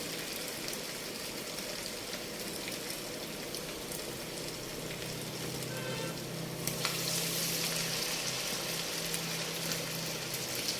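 Flattened sabudana vadas fry in hot oil, giving a steady, close sizzle and crackle that grows busier and brighter partway through, with no one talking.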